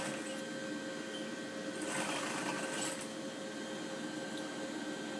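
A sewing machine sews a quarter-inch backstitch at the start of a straight seam: a quiet, steady whirring hum with a slightly louder rattling stretch partway through, with no voices.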